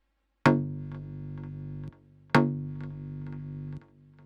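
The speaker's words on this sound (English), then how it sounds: "here we are with our ploink preset raw" A raw ploink synth preset in Serum sounds two sustained plucked notes, each with a sharp attack that decays into a held tone, alone and fairly quiet.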